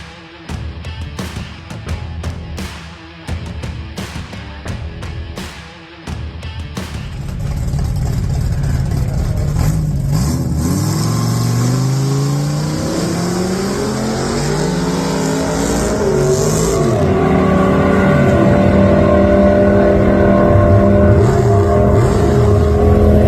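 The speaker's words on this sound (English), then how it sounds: "The Viper powered pickup truck, the SRT10 Dodge Ram." A Viper-powered SRT10 Dodge Ram pickup makes a drag racing run, its engine revving loud and near, climbing through gear changes with rising and falling whine after a choppy, broken start.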